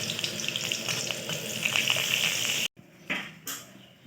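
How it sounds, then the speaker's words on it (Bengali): Whole cumin seeds sizzling in a little hot oil for tempering a light village-style fish and summer vegetable curry: a loud crackling sizzle that cuts off abruptly, followed by quieter spatters and a couple of brief bursts. "এবার ফোড়নের জন্য অল্প তেল দিয়ে দিলাম। এতে দিয়ে দিলাম গোটা জিরে"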